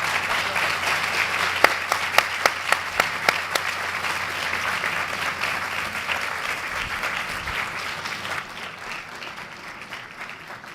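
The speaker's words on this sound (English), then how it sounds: "Let's give them a round of applause." An audience at a dyslexia center event applauds panel guests, steady clapping with a burst of loud, rhythmic nearby claps early on, fading to a softer murmur toward the end.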